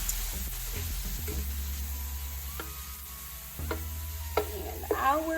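Ground beef for baked ziti frying in a pan gives a steady, close sizzle, with a spatula scraping and clicking against the pan through the middle and end.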